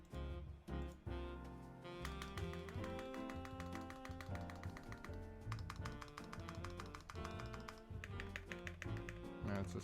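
Light mechanical keyboard switches, NK_ Silk and Dry, clack in rapid, steady, fairly high-pitched taps beneath continuous loud background music.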